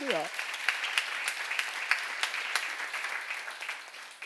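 Church seminar congregation breaking into applause, a dense wash of many hands clapping at moderate distance, fading slightly toward the end, with a brief voice at the start.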